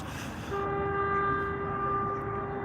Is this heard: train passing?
yes